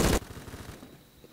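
A loud gunshot in the shooter game Phantom Forces opens the moment, followed by a quick run of softer rattling shots and another sharp report at the end.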